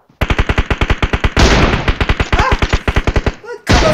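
Rapid automatic gunfire from the video game PUBG Mobile, loud and close, bursts of evenly spaced shots with a brief pause near the end before firing resumes.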